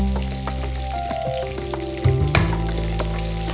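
Urad dal fries in hot oil in a pan, a steady close sizzle with a faint hum underneath and a brief louder crackle partway through.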